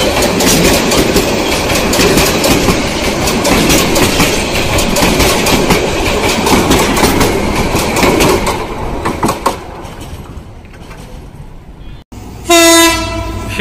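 The Chattala Express passenger train in Bangladesh runs loudly past on the rails, dense rhythmic clickety-clack of wagons for about ten seconds, fading off, then a brief blast of the train horn near the end.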